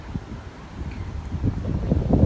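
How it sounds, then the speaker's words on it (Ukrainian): Gusty wind buffets the microphone with low rumbling blasts beside a lake in a park, building in strength toward the end; no voices are heard. "вітер, не знаю, чи буде щось чути"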